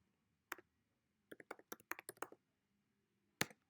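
Computer keyboard keys are tapped as a SwiftLint rules command is typed. Quiet, close, crisp clicks come singly at first, then in a quick run of about a dozen taps, followed by a pause and one final keystroke.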